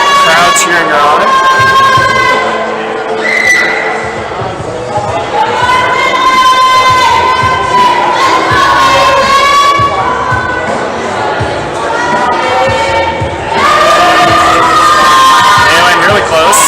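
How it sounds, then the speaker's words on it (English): Spectators at an indoor provincial top rope climbing competition cheer and shout loudly and continuously, a dense wall of voices with rising whoops and a few brief dips. "Crowd cheering her on."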